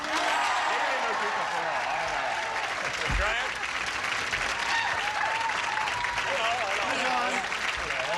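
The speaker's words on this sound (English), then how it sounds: "saying hello to our stars with a brisk round of applause" Studio audience at a television game show giving a brisk, sustained round of applause to greet the celebrity panel, a full, steady wash of clapping from a large crowd throughout, with voices briefly audible over it.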